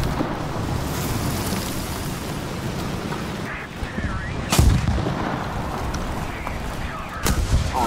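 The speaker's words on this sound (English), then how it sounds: "Now, artillery strike didn't help much." Dense, rumbling battle noise fills the scene during an artillery strike in War Thunder, with heavy booms and sharp blasts layered over continuous tank-combat din, loud and close throughout.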